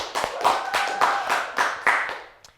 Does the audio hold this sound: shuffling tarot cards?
no